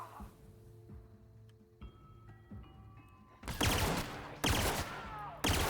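Pistol fire in the video game The Outer Worlds: after quiet tonal game music, three loud broadband bursts land close together near the end, each sharp and close, standing alone without talk.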